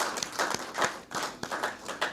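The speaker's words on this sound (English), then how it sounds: "Another round of applause for our Prime Minister who has brought this home for us" Faint, sparse clapping at a formal government agreement signing ceremony, a few distinct hand claps in an irregular rhythm, quiet and somewhat distant.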